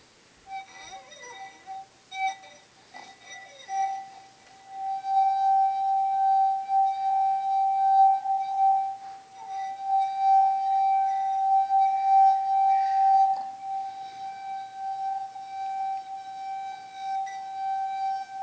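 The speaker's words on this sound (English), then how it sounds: "Stick your finger in a glass of water and then rub it around the side." A sustained, ringing singing tone from a finger dipped in water circling a glass rim, steady and clear with bright overtones, swelling and holding for many seconds.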